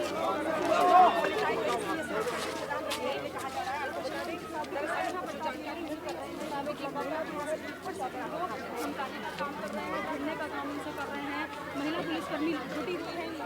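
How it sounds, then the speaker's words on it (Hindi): A dense crowd of women gathered in Jahangirpuri, Delhi after a woman's arrest, a steady babble of many overlapping voices at moderate level with a louder burst near the start. "ये जो भीड़ आप देख रहे हैं सामने"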